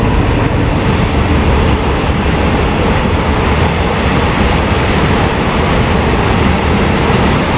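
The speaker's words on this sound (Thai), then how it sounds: "มีรถไฟด้วยนะครับตรงนี้" A loud, steady roar of a train passing close by at Grand Canyon Khiri in Chonburi, Thailand, rumbling continuously throughout without any voices.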